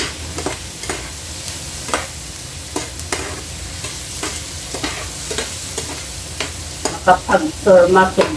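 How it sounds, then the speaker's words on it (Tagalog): Bottle gourd and sardines sautéing in a pan: a steady sizzle broken by repeated scraping stirs of a utensil, close and loud, growing busier and louder near the end. "Magluluto tayo ng ating ulam, ginisang upo sa sardinas."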